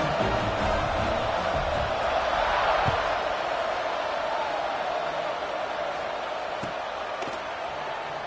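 A stadium crowd in the College Football 26 video game roars without a break during a tied fourth quarter before a kickoff, a loud broad wash of cheering with no voices standing out.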